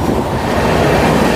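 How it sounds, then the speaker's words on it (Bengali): A train running at high speed rumbles loudly and continuously from inside a carriage, a dense, steady roar with rhythmic rattling underneath. "যথেষ্ট স্পিডে এখন ট্রেন চলছে,"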